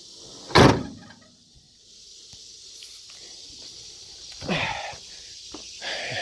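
The door of a 1951 Ford F1 pickup truck shuts with one sharp, solid slam near the start, followed by quieter rustling, a few small knocks and a softer thud later, all close and without talk.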